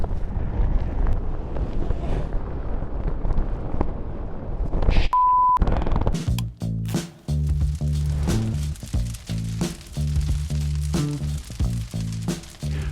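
Loud mountain wind roars against the microphone, then a beep sounds as a DJI Mini 3 Pro drone takes off and the rumble shifts into a steady whirring drone with gusty noise underneath.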